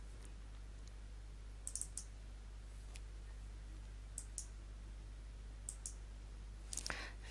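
Computer mouse clicks in medical records software, a few faint, sharp clicks spaced apart against a quiet background hum.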